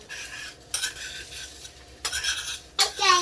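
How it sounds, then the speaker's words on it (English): Eggs being whisked in a bowl during a breakfast cook with a child, heard as quick scraping, clinking strokes in short bursts, close and fairly loud with no talk. "now our eggs are ready to mix"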